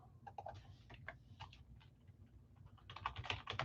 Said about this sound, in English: Typing the name of the jersey on the line.